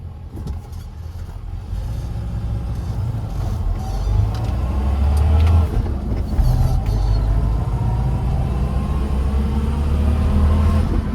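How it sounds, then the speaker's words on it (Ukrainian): An old Moskvich car rumbles along at low speed over cobblestones, the low engine drone mixed with steady rattling and bumping. "Ми зараз трошки по бруківочці проїдемося"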